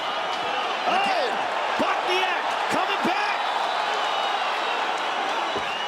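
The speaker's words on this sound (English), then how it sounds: "Brooklyn crowd getting behind these 2 warriors" A Brooklyn crowd roars steadily through a fight between Zabit and Bochniak, a dense wall of cheering that never lets up while an excited commentator talks over it.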